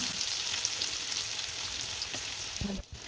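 Crushed garlic cloves sauté in melted ghee, a steady close sizzle with soft stirring, ending in a sharp utensil knock near the end.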